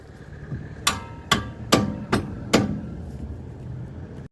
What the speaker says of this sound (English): we should just be able to hit that out with a mallet.